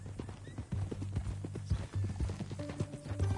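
Horse hooves clip-clopping at a walking pace in Red Dead Redemption 2, a close, steady rhythmic patter with soft snorts and background game ambience.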